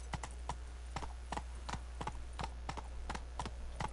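Hooves of the horse Roach galloping in The Witcher 3: Wild Hunt, a quick, regular clip-clop beat at moderate distance, faint and steady with no talk over it.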